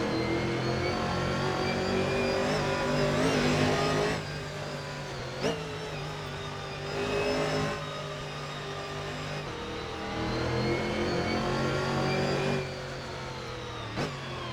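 Guerilla Mods Camaro GT4 race car in Assetto Corsa, its engine droning steadily and rising through revs with brief lifts and gear changes, sustained and close throughout.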